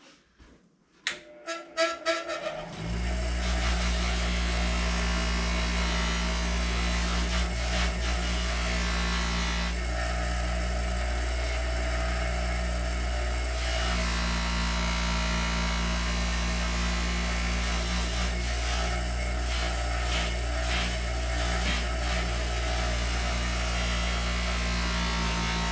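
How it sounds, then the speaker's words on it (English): A motorized buffing wheel charged with polishing compound spins up with a few knocks, then runs as a steady humming whine while a rusty gun part is pressed against it, the grinding contact rising and easing throughout. "The buffing wheel already has some compound on it from other projects,"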